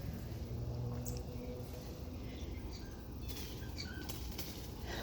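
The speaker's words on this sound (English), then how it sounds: "Scared the birds." A burst of wing flapping as birds take off from a garden, a fluttering rustle over steady outdoor background noise.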